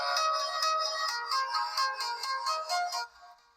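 A ringtone played through the tinny speaker of an Itel A50 phone, a fast, bright repeating melody of rapid chiming notes that sounds thin with no low end, cutting off near the end.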